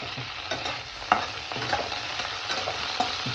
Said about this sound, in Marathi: फोडणीमध्ये वरून वांगे टाकायचे, म्हणजे तोपर्यंत वांगे परततात